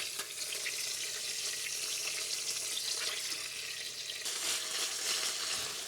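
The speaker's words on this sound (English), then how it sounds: "Second batch of beef is browned." A second batch of beef sizzles and fries steadily in a hot pan on a Rayburn range cooker, a continuous close crackling hiss with no talk.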